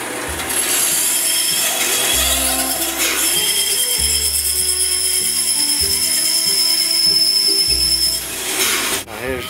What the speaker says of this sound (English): Now that's ready to cut out on the bandsaw.